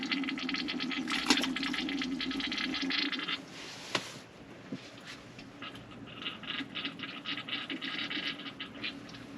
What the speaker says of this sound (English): fill a little water in the black tank